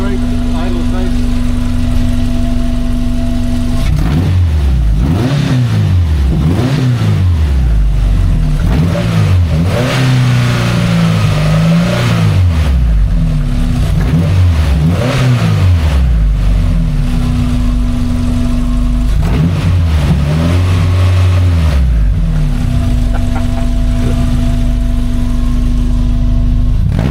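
A 1982 VW Westfalia engine idles steadily and loudly close by, its pitch rising and falling with several revs in the middle stretch before settling back to a smooth idle, with someone talking briefly over it.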